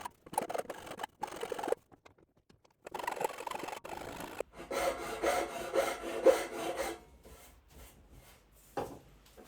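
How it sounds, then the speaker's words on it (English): A half-round rasp shapes the curve of a wooden hand plane handle, close rasping strokes in irregular bursts separated by short pauses. "I'm using a half-round rasp to create the curve in the lower part of the handle"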